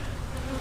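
Bees buzz inside a packed hive box during a nectar flow, a dense close-up hum of many insects that drones steadily for a short moment.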